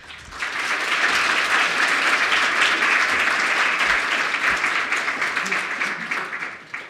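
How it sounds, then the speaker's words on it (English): Audience at a research conference applauds the panelists in a loud, sustained burst of clapping that swells quickly, holds steady for several seconds and then begins to fade. "And a big applause for our panelists."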